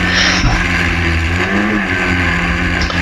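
Historic Formula Ford race cars at Brands Hatch near Graham Hill Bend, a loud continuous engine drone as the cars run close, steady and near without a pause.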